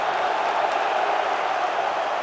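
A handball arena crowd roars and applauds after a goalkeeper's save, a steady, dense wall of cheering and clapping that holds at full loudness throughout.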